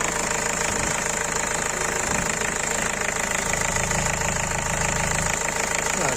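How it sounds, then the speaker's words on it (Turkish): A Ford Connect 1.8 van engine idles close by, a continuous low rumble with a faint rhythmic knock and no pauses. "Motorun sesini dinlememiz gerekiyor."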